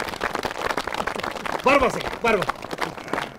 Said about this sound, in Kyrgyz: Бир кол чаап коюңуздар.